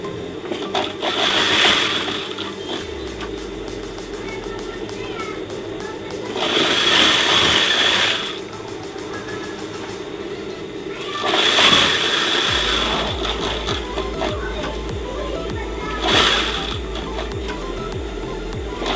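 A sewing machine stitches the elastic waistband of a skirt in repeated bursts of steady whirring, with a person talking over and between the runs.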